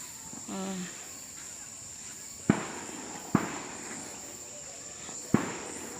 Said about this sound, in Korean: 대포 소리가 요란합니다